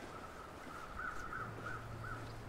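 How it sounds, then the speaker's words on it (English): Crows caw in the snowy wilderness of the survival game The Long Dark, four evenly spaced faint calls over a steady wind-like hiss and a low hum. "Some birds."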